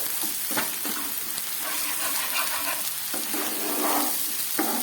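Masala paste for oil koi fish curry sautéing in oil in a pan, a dense, fairly loud continuous sizzle with repeated spoon scrapes and stirring knocks throughout.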